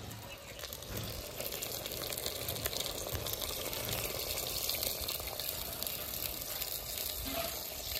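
Water gushes steadily into a pot of handi mutton curry being cooked, a continuous close, moderately loud rush with faint sizzling beneath, lasting throughout without pause.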